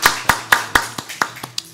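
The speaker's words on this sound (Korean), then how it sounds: "네, 박수로 올려드릴까요?" A church congregation at a morning worship service claps in praise, with about eight distinct, evenly spaced claps that fade slightly toward the end.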